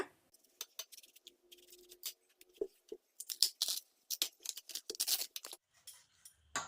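Crisp tearing and crackling as fibrous layers are peeled by hand from a bamboo shoot, a quiet, close series of irregular snaps and rips with short pauses between.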